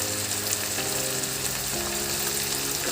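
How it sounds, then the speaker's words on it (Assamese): Fish with bamboo shoots, salt, turmeric and tomatoes fries in a pan with a loud, steady sizzle, broken now and then by stirring scrapes. "ভালদৰে এইখিনি মিক্স কৰি বিলাহীখিনি ধুনীয়াকৈ গলি যোৱালৈকে ফ্ৰাই কৰি থাকিব লাগিব।"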